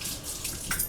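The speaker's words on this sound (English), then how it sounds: "Rinse and dry that off." Tap water running steadily into a sink while something is rinsed during blueberry barbecue sauce preparation, a brief continuous splashing hiss with no voices.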